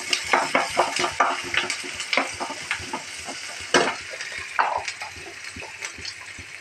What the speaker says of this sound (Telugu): ఆనియన్ తీసుకొని వేయాలి. బాగా వేగనిచ్చాలి.